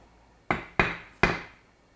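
A mallet strikes a woodworking chisel three times in close succession, each hit a sharp, loud, clear knock that decays quickly, with quiet between the blows.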